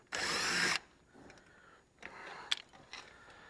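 A power driver with a 9/32 socket backs out the door speaker bolts on a 2010–2015 Chevy Equinox driver door, giving one loud buzzing whir followed by quieter clicks and handling noises.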